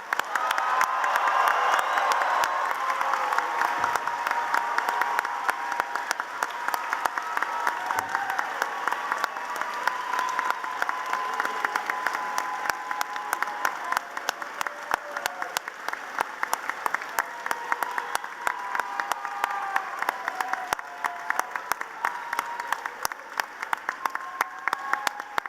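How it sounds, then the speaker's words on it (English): A crowd at a 2023 university graduate commencement ceremony in a large hall breaks into loud, sustained applause with scattered cheers, holding steady for the full length. "let's give them a thunderous round of applause"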